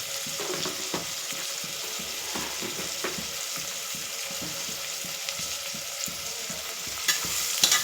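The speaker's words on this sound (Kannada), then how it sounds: "ಈರುಳ್ಳಿ ಸ್ವಲ್ಪ ಬೇಗ ಫ್ರೈ ಆಗುತ್ತೆ" Onions sizzling and frying in a pan with salt for a vegetable pulao, a steady hiss with repeated scraping stirs and a few sharper clinks of the utensil.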